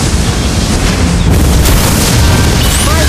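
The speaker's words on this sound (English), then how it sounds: "Your team destroyed a turret." A loud, dense explosion burst from a turret being destroyed in the Mobile Legends: Bang Bang video game, a sustained booming rumble filling the whole stretch with game effects layered over it.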